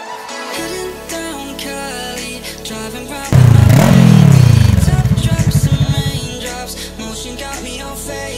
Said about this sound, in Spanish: Turno para la Vogue 500R, creo que esta moto habla por sí sola.